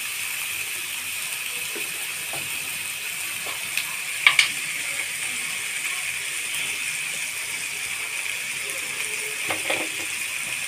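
Vegetables stirred and frying in a pan, a soft continuous sizzle with a few scattered clicks and scrapes of a spatula, one sharper knock midway, close and quiet.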